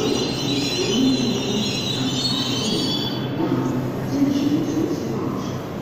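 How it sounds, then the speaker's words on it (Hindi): A Jaipur metro train passes nearby with a steady rumble, rolling wheel noise and a high squeal, loud and continuous; someone speaks over it. "सामने दूसरी मेट्रो जा रही है, मैं वो दिखा देता हूँ आपको।"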